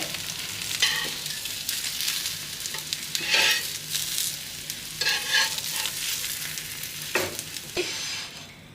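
Bread omelette of beaten egg sizzles steadily in a hot pan, with repeated stirring and scraping bursts and a few sharp clanks of the pan being shaken, no voices.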